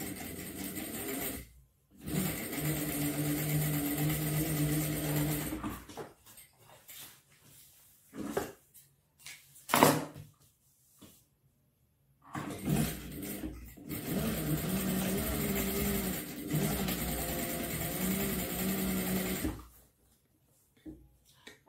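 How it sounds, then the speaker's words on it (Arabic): Sewing machine stitching hijab fabric, running in two long steady whirring bursts up close with short pauses and soft clicks between them. "ونبدا نخيط بسم الله"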